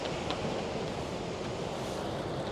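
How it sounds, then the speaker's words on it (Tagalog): Ocean waves crashing on rocks along the coast at Port Elliot, South Australia, a continuous loud wash of surf mixed with wind noise, steady throughout with no talk. "tingnan niyo naman yung hampas ng alon sa mga bato"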